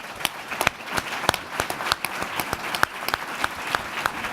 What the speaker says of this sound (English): including a huge round of applause